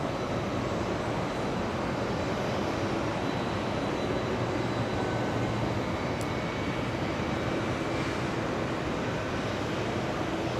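A Boeing 757 jet at JFK Airport on a hot summer night gives a steady, broad engine roar that holds evenly throughout, sounding moderately distant with no talk over it.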